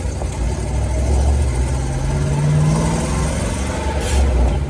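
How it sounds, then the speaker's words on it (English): A Ford 289 V8 car engine idles with a low, steady rumble close by after running for about twenty to thirty minutes while overheating, holding an even throb throughout with a brief rise near the end. "it's probably been idling for 20 or 30 minutes"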